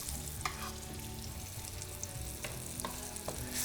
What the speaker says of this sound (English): You hear that little sizzle? That's what we're looking for when we put our chicken in.